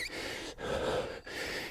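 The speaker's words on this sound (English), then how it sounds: "Excuse the heavy breathing." A person gasps through heavy, ragged breaths after a bodyweight workout: a few quick, breathy inhales and exhales separated by short pauses, close to the microphone.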